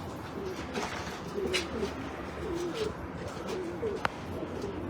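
Pigeons coo softly in a repeating low rhythm, with some background noise and a faint click.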